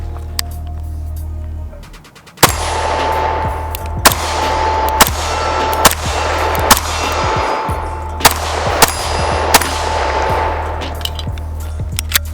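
An STI Staccato C pistol fires seven loud, sharp shots at a measured pace of roughly one every one to two seconds, each followed by a ringing echo over steady outdoor background noise.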